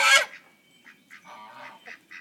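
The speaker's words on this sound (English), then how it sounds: "Hi, my goose. My goose, my goose, my goose." A goose in a barnyard lets out one loud, harsh honk up close, then a run of softer, nasal honks and gabbling calls in uneven bursts, with no talking.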